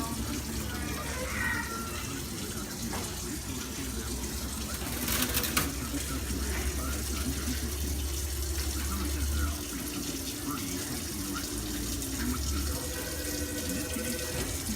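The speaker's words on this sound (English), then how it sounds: "We'll rinse off in some water." Instruments get rinsed under running water from a tap, a steady rushing flow into a sink that continues throughout at moderate level, with brief clinks and faint voices in the background.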